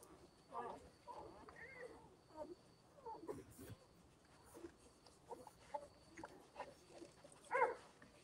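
Newborn Great Pyrenees puppies squirm and shuffle close by, letting out faint intermittent whimpers and squeaks, with one brighter yelp near the end. Quiet adult voices talk over them.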